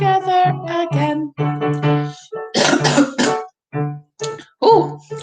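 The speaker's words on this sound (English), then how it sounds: "got a little bit of a cough this morning" A raspy cough bursts out in the middle of sustained, tonal vocal sounds from a first-grade singing lesson, close and fairly loud.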